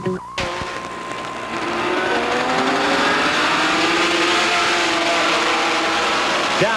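A field of C production race cars, led by a Jaguar, starts on the green flag, engines swelling from a sharp opening bang into a loud sustained multi-car roar of rising revs close by.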